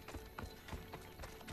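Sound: horse galloping in a video game

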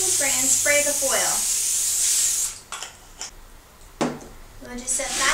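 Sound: cooking spray spraying onto foil

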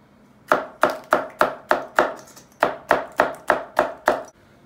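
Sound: chopping hot pepper with a knife

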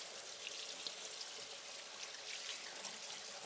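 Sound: running water washing in the sink

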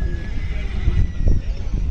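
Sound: horse whinnying, a mare and filly at a fair

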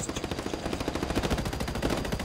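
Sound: video game machine gun fire

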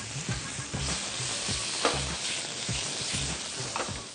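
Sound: marinated prawns added to cooked onions, frying in pan

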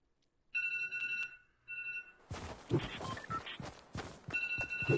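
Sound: phone ringing

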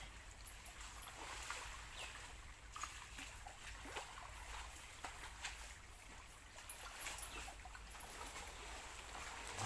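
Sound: elephant playing in stream water

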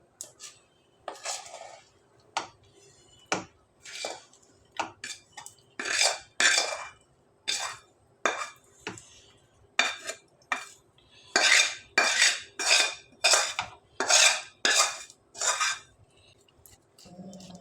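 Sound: pouring jaggery peanut chikki mixture into a greased plate

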